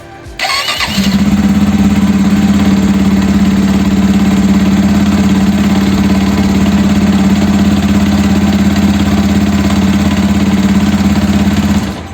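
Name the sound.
motorcycle engine started and idling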